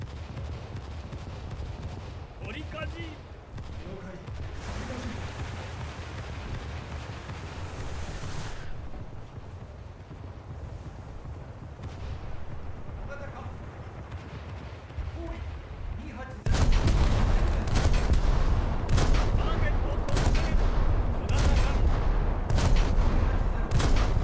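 Naval gunfire from battleships in a warship video game rolls on as continuous rumbling booms over sea and wind noise, growing noticeably louder and denser in the second half.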